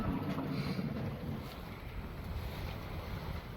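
A sailboat under sail at sea with its motor switched off. Steady wind rush and water washing against the hull hold at an even level throughout, with no engine and no voices.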